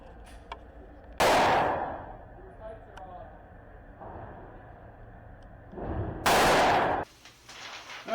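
A Glock 34 pistol fires two loud, sharp shots several seconds apart, each with a quick decaying tail over a low outdoor background.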